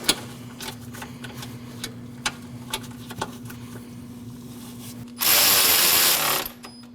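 A ratchet tightens two 10mm nuts on the washer reservoir of a 2014-2023 Jeep Cherokee. Crisp clicks come in a quick irregular run under a steady low hum, followed by a loud rushing burst near the end.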